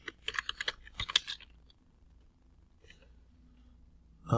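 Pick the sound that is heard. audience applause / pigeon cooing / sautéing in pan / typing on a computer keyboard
typing on a computer keyboard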